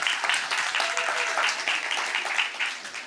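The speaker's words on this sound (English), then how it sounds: "Hold on, and then you can applaud." An audience at a film Q&A with a director applauds in a dense, sustained wash of clapping that stays loud throughout, with a faint voice underneath.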